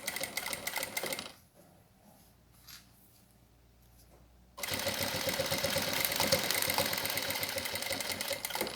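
A sewing machine stitches a plastic pouch in two bursts of rapid, steady whirring, with a quiet pause between them before a longer, louder run that continues to the end.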